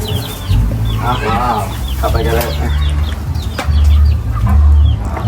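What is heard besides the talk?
chickens clucking at a backyard farm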